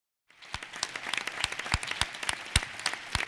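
Applause from the audience at a parliamentary ceremony honouring the Real Academia Española, starting abruptly after a short silence and continuing as dense, steady clapping from a large room.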